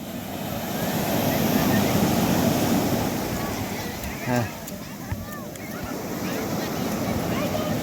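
Heavy, continuous surf roars and churns throughout, rough waves breaking with a wind-buffeted rumble and a brief splash midway.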